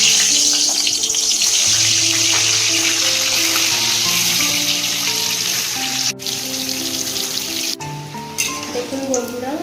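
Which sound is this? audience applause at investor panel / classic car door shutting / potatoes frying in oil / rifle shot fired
potatoes frying in oil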